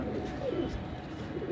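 Sialkoti pigeons coo in soft, low, repeated throaty murmurs, close by, over a steady background hum.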